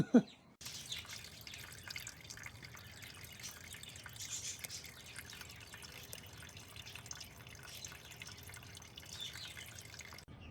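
Coolant drips from a punctured Toyota MR2 V6 fuel tank in faint, scattered taps over a quiet background, with a sharp knock at the start.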